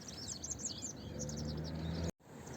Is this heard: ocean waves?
no